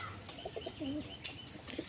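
Pigeons in a rooftop loft make a few soft, low coos close by, with a brief flutter of wings and faint chirps over a quiet background.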